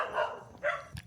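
A few dogs bark at each other at night in short bursts with pauses between, fairly faint and a little distant, over quiet background noise.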